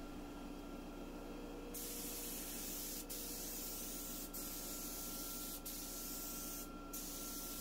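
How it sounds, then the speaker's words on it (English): Bursts of spray hiss from an aerosol can of paint top coat sprayed onto furniture, several presses of a few seconds each with short gaps between, close and steady. "I spray two coats of the top coat and allow it to dry an hour in between each coat."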